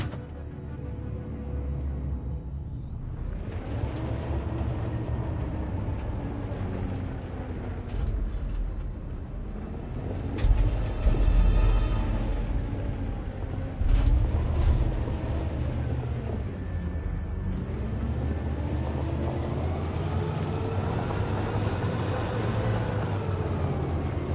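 A truck in the video game Detroit: Become Human gives a steady heavy engine rumble throughout, with tones that rise and fall and a brief louder surge partway through, alone without talk.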